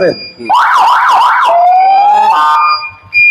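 A loud ambulance-style siren fitted on a used 2019 self-start disc-brake motorcycle wails in a rapid rising-and-falling yelp, then shifts to a long steady tone and a brief warble, close and sounding alone.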